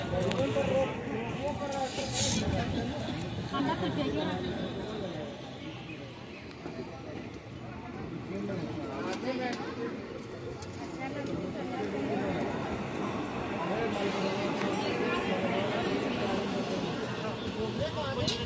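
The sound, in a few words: crowd chatter at railway station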